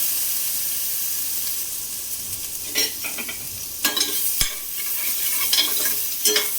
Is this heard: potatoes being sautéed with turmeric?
yes